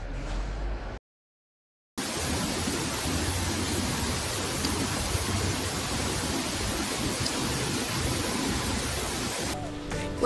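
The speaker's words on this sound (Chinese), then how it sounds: "外面现在在下大雨" Heavy rain falls outside, a steady, dense hiss broken by a brief silence near the start, with faint low rumbles within the continuous downpour and no talking.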